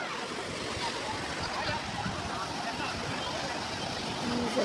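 Sea waves roll in at Ongole beach, a steady broadband wash of surf with wind buffeting the microphone, continuous and fairly loud throughout.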